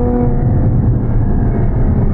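A Ferrari F12 Berlinetta's engine drones steadily and loudly from inside the car, a dense low rumble holding even throughout with no voices over it.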